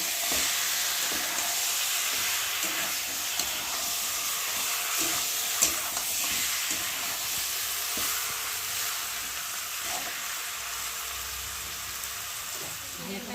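Chicken sautéed with spices in a pan at an outdoor picnic: a steady hissing sizzle runs throughout, with faint intermittent stirring knocks and a brief sharp clink midway.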